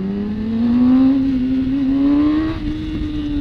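Motorcycle engine revving and rising in pitch while riding between apartment buildings at night, a loud steady drone that climbs, dips briefly, then holds, echoing off the walls.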